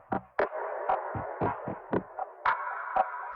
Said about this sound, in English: Now the drum loop sounds like this.